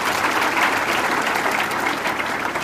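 An audience at a memorial gathering claps together in a dense, steady burst of applause that stays loud and even throughout, with no clear speech over it.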